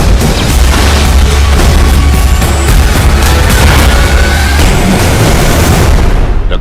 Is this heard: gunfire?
yes